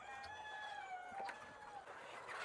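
Chickens crowd around a water dish filled with Lasota vaccine solution, calling and clucking continuously in a thin, close chorus, with one rooster-like cry rising briefly midway.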